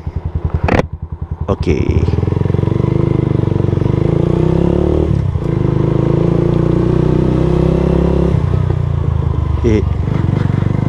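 A Honda Nova Sonic RS 125 CBU Thailand motorcycle rides along with a steady, loud engine drone and some clattering at the start. One brief word is spoken near the beginning.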